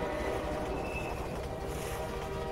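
A train in the video game Half-Life 2 rumbles past in a continuous, dense low roar with faint metallic whine, steady throughout at moderate distance.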